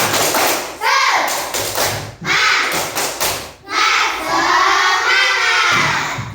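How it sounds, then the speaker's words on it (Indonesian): Schoolchildren in a classroom shout a spirited group chant with rhythmic clapping, loud and close, in bursts separated by short pauses. "Tepuk semangat!"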